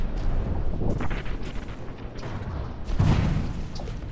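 Continuous cannon fire from an anti-aircraft ship in a video game, rolling in dense bursts of booms with a heavier volley near the end, loud and unbroken throughout.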